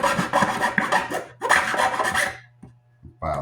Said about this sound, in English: File this down.